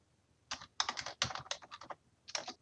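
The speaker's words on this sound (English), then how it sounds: "if you go into Google and type in SolidProfessor" Typing on a computer keyboard: close, crisp clusters of keystrokes in quick irregular bursts, separated by short pauses.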